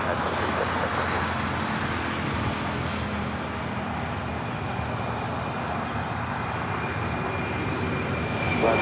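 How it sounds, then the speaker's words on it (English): FedEx Boeing 767-300 jet on its takeoff roll down runway 25 Right at Los Angeles airport, a steady, loud broadband engine roar with a faint high whine, continuous and fairly close throughout. "767 now rolling down the 25 right"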